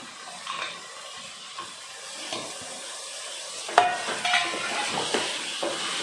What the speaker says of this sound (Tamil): எல்லாத்தையும் ஒன்றா கிளறி விட்டுக்குவோம்